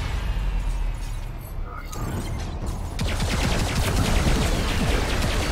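Gunfire in the video game Robocraft during a clan war battle, dense rapid automatic bursts that grow busier and louder halfway through, with a steady rattle of shots and muffled impacts.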